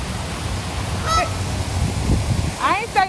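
Ducks on a nature walk give a few loud, nasal honks, one short call and then a burst of overlapping honks near the end, over outdoor rumble and wind.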